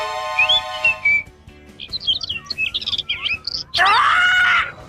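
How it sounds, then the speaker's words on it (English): A little bird chirps and tweets in a children's show: a clear whistled note, then a quick run of bright warbling chirps, ending in a loud, rich burst of song. "Oh, what did the bird say?"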